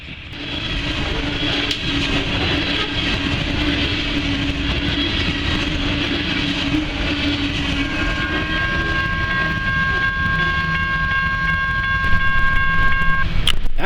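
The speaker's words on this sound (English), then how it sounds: "N208 is an Evansville, Indiana to Stylesboro, Georgia coal train" A coal train running from Evansville, Indiana to Stylesboro, Georgia rumbles past in railroad country near Chattanooga, Tennessee, a loud continuous roar of wagons with wheel clatter and a high squeal late in the pass, close by.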